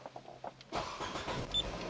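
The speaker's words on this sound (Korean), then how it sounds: "두 개고 여기 넣고 시동을 걸어봐야죠." A 2014 LPG-fuelled midsize sedan with about 70,000 km starts up: a few quiet clicks, then the engine catches abruptly and settles into a steady close idle.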